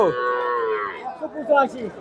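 Friesian dairy cow at a cattle market in Bogura, giving one long, loud, close moo followed by shorter lowing sounds against a busy market background.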